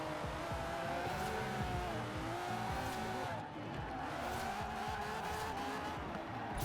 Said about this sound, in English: they're fun to drive because you're drifting a Lamborghini